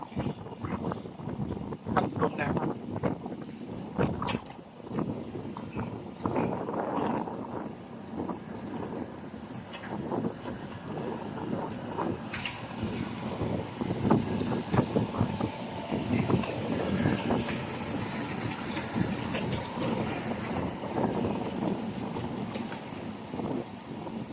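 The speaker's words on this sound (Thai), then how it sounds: "วันนี้ลมแรงนะครับ" Strong wind buffets the microphone on the beach at Bang Saen, a steady rushing roar with gusty surges that runs throughout the clip, with surf and shoreline noise underneath.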